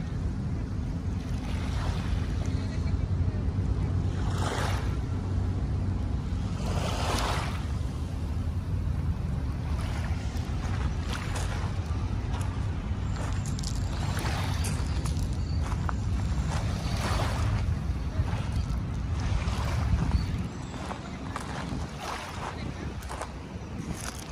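Wind and lapping waves on Manila Bay roll on continuously near a boat, with a low rumble underneath and someone talking intermittently over the sound.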